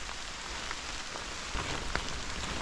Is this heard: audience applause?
no